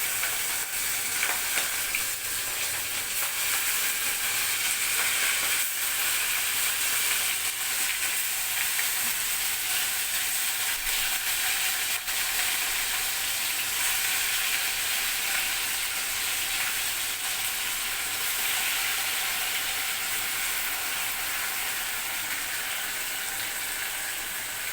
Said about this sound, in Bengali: তেলটা গরম হয়ে গেছে, গ্যাসটা কমিয়ে আমি এবার চিংড়ি মাছগুলো আস্তে আস্তে